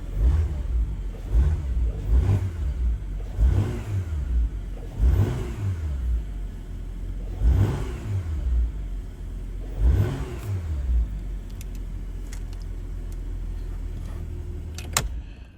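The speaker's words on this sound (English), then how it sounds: "so I'm gonna give it a few revs." A Porsche Macan S V6 engine in sport mode revved repeatedly, about six sharp throttle blips rising and falling in a steady rhythm, then settling to a low idle.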